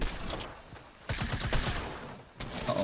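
Gunfire in Fortnite Battle Royale, bursts of rapid shots crackling in clusters with brief pauses between volleys, fairly loud and close.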